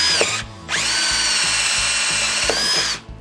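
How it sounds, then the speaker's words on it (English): A power drill fitted with a 3/4 inch bit bores a hole in PVC, its loud motor whine running steadily for over two seconds between a short burst at the start and a spin-down at the end. "I'm gonna use a drill with any kind of a bit that's bigger than the blade that has to go into the hole."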